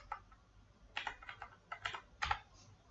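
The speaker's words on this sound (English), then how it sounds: "The OTP comes in your mobile. You just need to type here." Quick, close clicks of a computer keyboard as a one-time passcode is typed into a login page, coming in short bursts of keystrokes, soft and alone with no talking.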